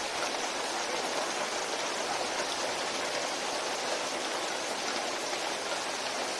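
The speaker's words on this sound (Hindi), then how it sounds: "क्या नजारा है बारिश का" Steady rain pouring down outside a college, a dense even hiss with no pauses, fairly close and unbroken.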